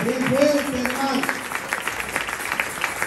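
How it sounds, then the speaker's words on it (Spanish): A church congregation claps loudly and steadily for a few seconds, with a voice calling out in Spanish over the applause at the start. "Dale un fuerte aplauso a Dios. Aleluya, bien fuerte, hermano."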